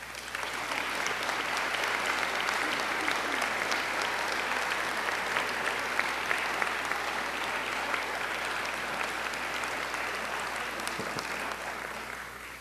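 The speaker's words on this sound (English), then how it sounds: "take a moment, give them a round of applause" An audience of parents and guests at an honor society induction ceremony claps steadily for over twelve seconds, a dense, even wash of applause filling a hall without letting up.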